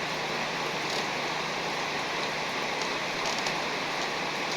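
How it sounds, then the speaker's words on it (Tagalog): Moderate rain falls steadily in a rural farming area, a close, constant hiss of drops on surfaces with no pauses or voices. "Normal lang siya na ulan."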